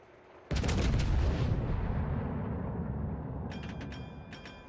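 A heavy naval gun salvo from a Stalingrad-class cruiser firing armor-piercing shells in World of Warships booms out suddenly, loud and close, then rumbles and slowly fades, with faint clicking interface ticks near the end.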